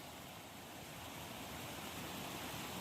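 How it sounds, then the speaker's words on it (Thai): Nang Rong Waterfall, a small cascade with fairly strong flow, gives a steady, dense rush of falling water, constant and close with no voices. "น้ำตกยอมๆเล็กๆตรงนี้นี่ สวยงามมากครับผม มันไหลมาจากด้านบนฝั่งนู้น"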